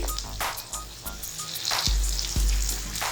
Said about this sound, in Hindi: और अब इसको हम एक दफ़ा से मिक्स करेंगे।